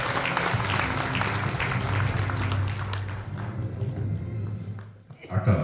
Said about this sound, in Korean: 우리 큰 박수 부탁드립니다